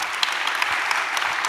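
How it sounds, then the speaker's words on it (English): An audience applauds Kath Viner at a talk event on news and media: a dense, steady wash of clapping at moderate loudness for the whole short stretch, with no voices. "give one more round of applause for Kath Viner"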